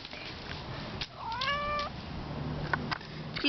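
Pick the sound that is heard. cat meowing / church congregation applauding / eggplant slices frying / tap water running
cat meowing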